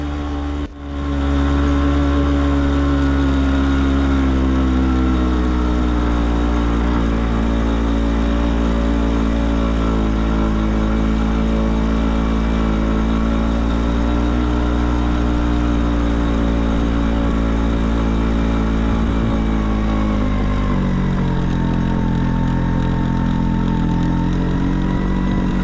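A Vespa two-stroke scooter engine, running on Ipone R2000 RS two-stroke oil mixed with Pertamax fuel, idles close and loud with a steady buzzing drone that dips slightly in pitch near the end.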